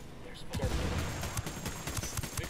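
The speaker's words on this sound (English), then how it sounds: "Shots fired." Ghost Recon Wildlands gunfire rattles in a dense, continuous burst of close, heavy shots, with rapid overlapping reports mixed with voices.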